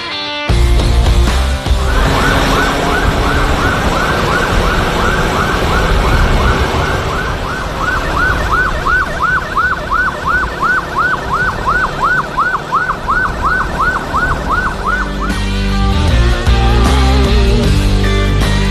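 A loud ambulance siren wails in a fast repeating yelp on Jakarta streets, rising and falling many times, close by amid engine and road noise, with a motorcycle escort.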